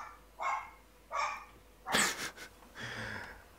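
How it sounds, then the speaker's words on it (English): Jack Russell terrier barking nearby, several short sharp yaps spaced about a second apart, one louder and harsher than the rest, heard alone against a quiet room. "You can hear my dog, can't you?"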